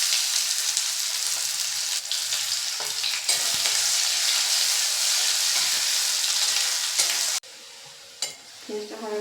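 Chopped onion fries with dried red chilli in hot oil, sizzling loudly and steadily with intermittent stirring scrapes, then the sizzle drops to a quieter bubbling with a few clinks near the end.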